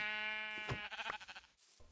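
Sheep in a video game bleat in a loud, harmonic burst at the start, followed by a few short clicks and a brief closing note.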